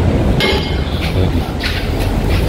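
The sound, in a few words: gate being closed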